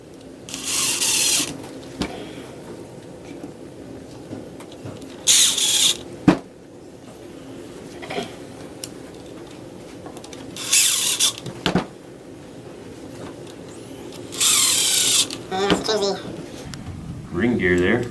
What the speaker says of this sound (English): put the 4 screws back in